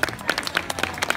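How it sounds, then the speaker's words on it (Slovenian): Brief burst of audience applause at an outdoor medieval-day street show in Ljubljana, close rapid clapping from a small crowd. "En aplavz za ribe, prosim."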